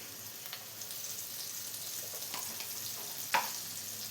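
Sliced onions with a pinch of salt sautéing in hot oil for a homestyle soya fry roast, giving a steady soft sizzle close by, with faint stirring scrapes and one brief louder clink near the end.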